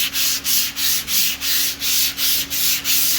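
A truck tray on an F100 is being hand-sanded in close, loud, rhythmic back-and-forth strokes, roughly three per second, to take the surface down before a Raptor liner coat, with no voices.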